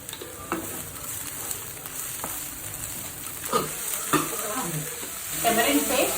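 Jackfruit fries over a low flame in a pan, hissing steadily while a utensil stirs it with scattered scraping knocks that grow busier toward the end.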